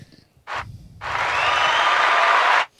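Canned applause from a soundboard button: a short burst of clapping, a brief pause, then a longer sustained round that cuts off abruptly.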